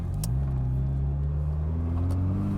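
A 1985 Ferrari 308 GTS engine rumbles and rises steadily in pitch as it accelerates in first gear, loud and close, with a faint click near the start.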